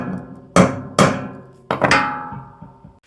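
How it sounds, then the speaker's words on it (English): A small hammer strikes a pin on a metal bike rack four times, sharp close metallic taps at uneven intervals, each ringing briefly before the next blow, with no talking. "you could pop it out with a screwdriver or just with a little hammer there"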